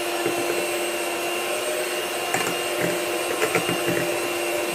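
An electric mixer whirs steadily through cupcake batter made with mascarpone cream, a constant, fairly loud motor hum with small clicks and knocks as the beaters hit the bowl.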